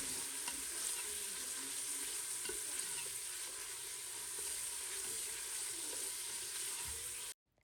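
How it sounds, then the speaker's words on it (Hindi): Chopped onion and garlic sautéing in oil give a steady, close hiss and sizzle, with occasional soft stirring scrapes beneath it, until the sound cuts off abruptly at the end. "फिर उसी ऑयल में आपने जो प्याज़ कट की हुई है और जो लहसुन कट किया हुआ है वो डाल देना है, और उसको बस आपने 2 से 3 मिनट तक आपने सौते करना है"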